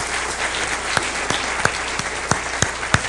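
An audience claps to thank a mathematics lecture speaker at the end of a plenary talk. The applause is steady and moderately loud, with some sharper single claps standing out, and no one speaks over it.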